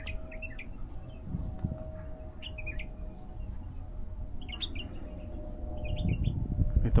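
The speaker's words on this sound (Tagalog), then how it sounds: "yung mga ibon dun." Birds chirp in short bright bursts at intervals in a park in Riyadh, over a steady low rumble of outdoor background noise that gets a little louder near the end.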